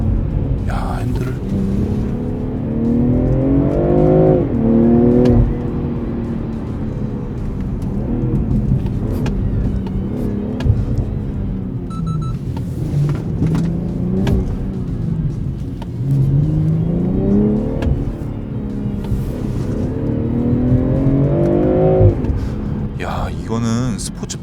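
BMW M340i accelerating at full throttle in Sports Plus mode on a curving road, engine rising in pitch through repeated gear pulls, steady and prominent, with someone talking over it.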